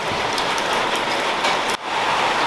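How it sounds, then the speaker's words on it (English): Rain falls outside a shed in a loud, dense, continuous hiss that briefly dips before carrying on. "It's raining"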